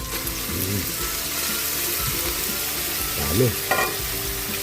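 Bean sprouts (toge) sizzle and crackle steadily in a hot pan beside pork steak, with utensils scraping and clattering at times; a voice speaks briefly.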